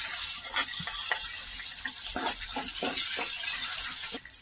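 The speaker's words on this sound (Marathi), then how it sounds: "आपण कांदा आणि कढीपत्ता टाकून परतून घेऊया" Onion and curry leaves sauté in hot oil with mustard seeds, cumin and asafoetida, giving a steady close sizzle and hiss broken by irregular scraping stirs.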